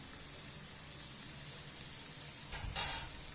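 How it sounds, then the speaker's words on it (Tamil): Chopped carrots and other vegetables stir-fried in a pan for homemade veg fried rice, a steady hissing sizzle with a couple of louder spatula stirs near the end; no talking. "நான் கட் பண்ணி வச்சுருந்த கேரட்டை போட்டு நல்லா மிக்ஸ் பண்ணிக்கோங்க"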